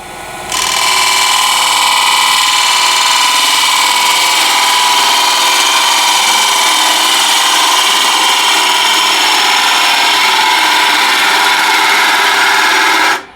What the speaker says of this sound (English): I'll use a ball gouge.